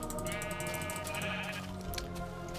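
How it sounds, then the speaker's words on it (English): Sheep in the Minecraft video game bleat in a couple of wavering calls over steady background game music, loud and close with no talk. "Oh, another sheep."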